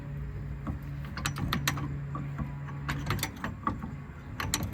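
A ratchet with a socket and jack-handle extension works loose a rear brake caliper bolt on an 8th-generation Honda Civic. It makes irregular metallic clicks and ticks over a steady low hum, fairly close.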